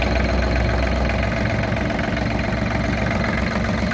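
A Kubota GL221 tractor engine runs at a steady, loud idle close by, with a continuous low rumble and a faint rattle from a loose seal; no starting crank is evident.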